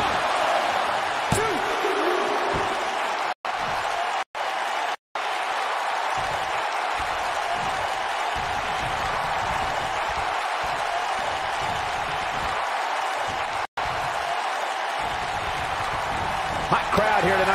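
A wrestling crowd in Minneapolis roars and cheers loudly and continuously from the arena, with a few sharp ring slams cutting through and a commentator talking over the noise.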